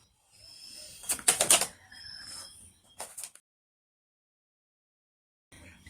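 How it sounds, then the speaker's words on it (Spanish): Tarot cards shuffled by hand, a short burst of papery riffling and flicking, close and quiet, followed by a brief tap and then silence. "vamos a barajar las cartas"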